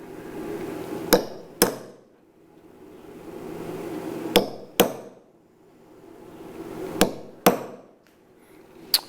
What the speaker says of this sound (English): we're going to take our hammer and just punch a little hole here at each spot where we're going to drill